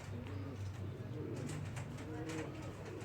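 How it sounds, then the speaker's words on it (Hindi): Pigeons coo softly and repeatedly on a rooftop, faint and fairly close, with low background noise and a few brief flutters or rustles. "अब मेरे कबूतर आए हैं ऊपर से बैठने के लिए।"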